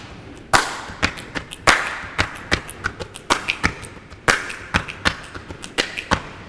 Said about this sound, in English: the little clicks are the hi-hat sounds in between